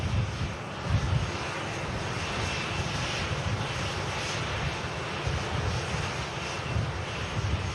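A Ryanair airliner taxis at an airport, its jet engines producing a loud, continuous rumbling roar with a broad hiss that holds steady throughout.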